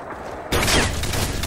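Video game gunfire breaks in abruptly halfway through and keeps going as a loud, dense volley over a low rumble.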